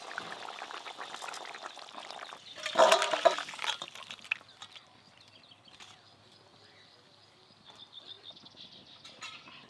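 Cooked fish curry poured out of the pan, a wet sloshing and spattering pour that peaks briefly and then fades to faint kitchen clatter.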